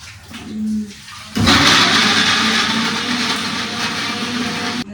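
A kitchen mixer grinder grinding masala with a little water starts abruptly and runs as a loud, steady whirring roar for several seconds before cutting off. A brief low hum comes just before it starts.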